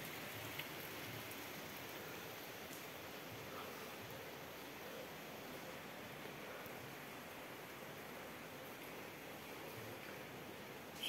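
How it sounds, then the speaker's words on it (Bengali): Rain falls outside a house as a steady, even hiss of downpour that holds constant throughout, with no voices over it. "বাইরে বৃষ্টি হচ্ছে।"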